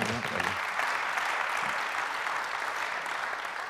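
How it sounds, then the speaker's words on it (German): An audience at a print industry symposium claps for a speaker, a fairly soft, even patter of many hands heard from some distance, continuing steadily before tapering slightly. "ihr könnt jetzt nochmal klatschen"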